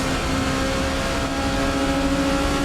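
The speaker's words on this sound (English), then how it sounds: "even though it sounds like you lift, you actually stay flat out around those final 2 turns" An Alpine prototype race car in the Assetto Corsa racing game holds full throttle, its engine a loud, sustained high-pitched whine with steady tones that never lets up.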